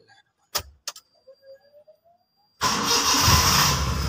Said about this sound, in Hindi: हफ्ते बाद हमने गाड़ी को सलफ लगाई और इसने सलफ उठा लेना।